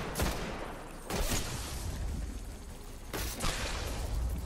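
Rapid gunfire in the video game Destiny while shooting at enemies, sustained dense bursts with sharp onsets that swell and ease across the moment, fairly loud and without talk.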